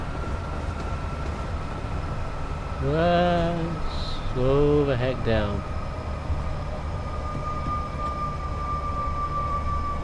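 Locomotive on the West Coast Main Line over Shap in Train Sim World 5, a steady low rail rumble and drone running throughout, with someone talking over it in the middle.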